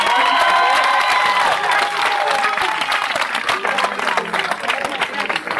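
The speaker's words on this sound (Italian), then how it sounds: "un applauso per Giuseppe Conte e un applauso a noi" A rally crowd at a political event for Giuseppe Conte in Marino breaks into loud applause and cheering, dense clapping with shouts and whistles, fairly near and sustained throughout.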